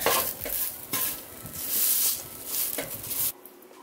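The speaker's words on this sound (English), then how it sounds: "I'm just gonna give them a little stir, let them cook a little bit more." Pasta cooking in a pan is stirred in several scraping sweeps over a steady close sizzle, the stirring strokes recurring roughly every second before the sound cuts off abruptly near the end.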